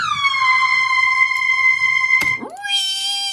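A bright, whining synth lead holds a wavering high tone, then swoops sharply upward into a new pitch, like a siren, loud and alone.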